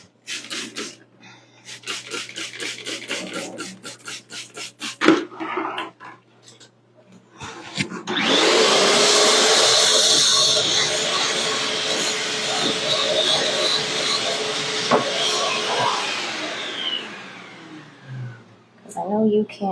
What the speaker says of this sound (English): It's another great reason to have a shop vac, so that way you can suck out the nasty stuff that's like in there.